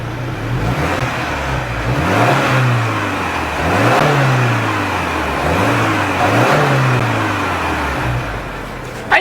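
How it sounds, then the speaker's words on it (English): A 2026 Subaru Outback's exhaust revs up three or four times in a row, each blip climbing and falling back to a steady idle, loud and close behind the car with no talking. "As always, here is that exhaust clip."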